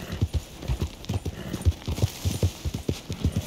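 Horse hooves clop steadily on hard ground in a quick, even rhythm in Red Dead Redemption 2, close and clear, with a soft low rumble underneath.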